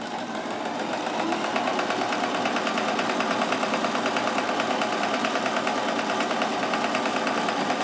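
A Kenmore 158.1914 sewing machine running steadily on a pattern cam stitch, with a continuous, even mechanical whir and rapid rhythmic needle clatter, close and alone.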